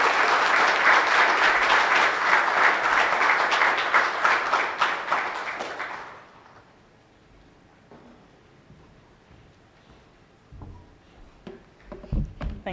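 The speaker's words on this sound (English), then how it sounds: "I think that deserves another round of applause" An audience at the official launch of a Greater Guyana Initiative project applauds after a keynote address, dense steady clapping for about six seconds that fades out, leaving a quiet room with small scattered noises.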